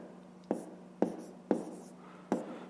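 A pen taps and scratches on paper in four evenly spaced, distinct strokes while fractions are written, close and fairly quiet, with no speech.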